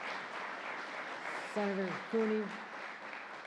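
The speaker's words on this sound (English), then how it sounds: "Let's give a round of applause to Senator" Audience applause for Senator Jeremy Cooney at a public safety event with the New York Governor, a steady broadband wash of clapping running throughout with a brief spoken name over it.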